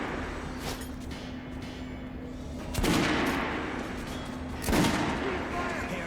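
Two heavy gunshots boom out in a Metro Last Light shooting range, spaced a couple of seconds apart over a steady hum and faint background speech.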